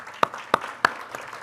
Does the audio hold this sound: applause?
yes